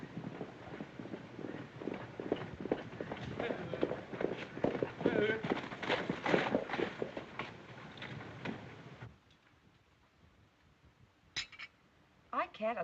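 Hooves pound rapidly in a galloping rhythm, loud and busy, then cut off into quiet with a few sharp sounds near the end.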